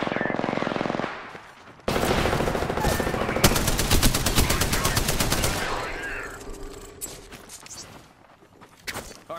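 Rapid automatic gunfire from an Apex Legends firefight crackles loud and close in sustained bursts, with a short lull and then scattered later shots as the exchange tapers off.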